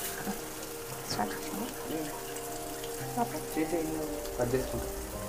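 Onions and ginger garlic paste fry in oil in a pan, giving a soft, steady sizzle up close, broken by occasional scraping and stirring knocks, with a voice speaking quietly at times over it.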